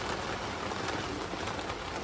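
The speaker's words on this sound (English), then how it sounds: "the rain was coming down hard" Heavy rain pours down outdoors, a steady dense hiss of drops on surfaces that holds constant throughout, with no talking.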